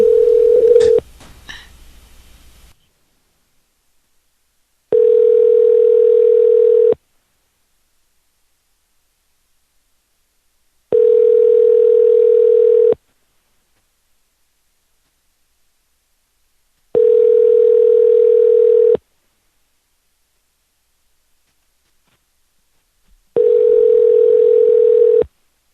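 Telephone ringback tone repeating four times in evenly spaced two-second bursts with silence between, following a brief noisy burst of handling sound at the start.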